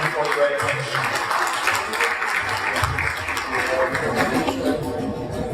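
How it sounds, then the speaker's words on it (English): Sustained audience applause for panelists at a global entrepreneurship summit panel session, a dense wash of clapping from a large crowd filling the room steadily throughout. "join us in a round of applause for our fantastic panelists"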